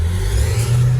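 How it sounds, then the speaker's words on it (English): A car pulling away hard through a loud, powerful aftermarket exhaust, a steady deep engine drone close by that holds and swells slightly across the moment, with no talking. "I want to hear him take off with his powerful, super powerful exhaust"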